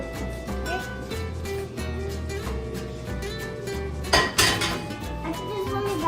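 Metal pan set down on a gas stove with clinks and scrapes of cookware and utensils in a home kitchen, close and fairly loud against a steady background hum, with faint voices.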